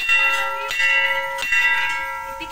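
A metal temple bell is struck three times at a slow, uneven pace, each clear ringing tone sustaining and overlapping the next before fading.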